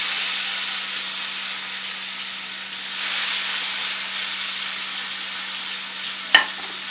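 Lime-seasoned sous vide pork chops sauté in hot oil, giving a steady broadband sizzle that swells slightly around the midpoint. A single sharp clack near the end, likely the pan or a utensil, and a faint constant hum run underneath.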